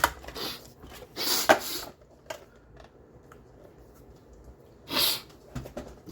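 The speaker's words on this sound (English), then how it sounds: "Excuse my sniffling, you guys." Several short, sharp nasal sniffles, close and fairly loud, come in separate bursts with quiet gaps between them during a paper craft session.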